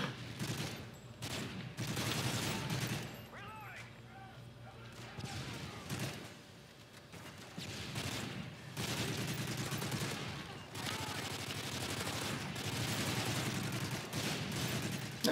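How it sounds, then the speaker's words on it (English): Gunfire in Call of Duty wave mode: repeated bursts of shots and thuds scattered through the clip, loud and dense, with people talking over the action. "There's so many things to shoot at in here!"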